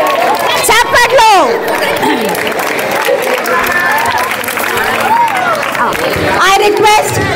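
A school staff gathering at a teacher's retirement celebration breaks into a round of applause, clapping mixed with lively crowd chatter and voices throughout.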